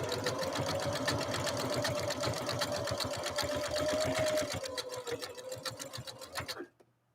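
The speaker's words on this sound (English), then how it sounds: "now we're going to lay down this mountain stitch" A Husqvarna Viking sewing machine stitches a decorative mountain stitch in a fast, steady mechanical rattle with a faint motor whine, running close and loud before slowing and stopping near the end.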